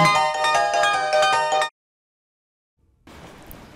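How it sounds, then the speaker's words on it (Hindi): A mobile phone ringtone plays loudly in a bright electronic pattern for over a second, then cuts off into silence before faint room noise returns. "सर का फोन बज रहा है"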